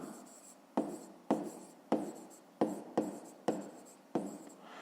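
Pen writing on paper during a 5th-grade maths exercise, a series of about eight sharp scratchy strokes in an even rhythm, close and alone with no talk.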